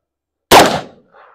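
A single sharp, loud gunshot from a 14.5-inch barrel 5.56 rifle firing PMC X-Tac M193 ammunition, a close crack with a short decaying tail and a faint echo just after.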